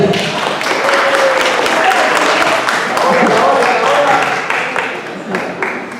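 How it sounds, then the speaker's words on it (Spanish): Applause from a church congregation welcoming a first-time visitor named Gabriel; a continuous wash of many hands clapping, loud and close, holding steady then tapering slightly toward the end. "un aplauso para el hermano Gabriel."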